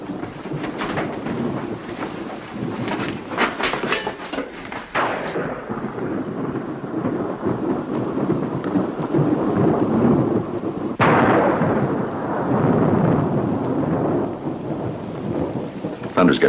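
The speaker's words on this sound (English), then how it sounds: "Thunder's getting closer all the time." Heavy thunder rumbles and cracks in long rolling waves, with a fresh loud peal breaking out partway through, under a steady wash of storm noise.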